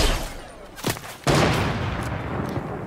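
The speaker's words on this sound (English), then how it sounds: "somebody shooting a sniper and somebody else just shooting" Sniper and other gunfire in the battle-royale game Fortnite, two sharp nearby shots followed by a loud, booming blast that rolls on into a dense tail.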